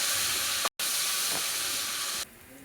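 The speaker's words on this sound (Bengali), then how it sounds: "তো পেঁয়াজগুলো লাল লাল করে ভেজে নেব।" Onions fry in oil in a kadai with a loud, even hissing sizzle. It breaks off briefly for an instant, then carries on and drops to a quieter simmer near the end.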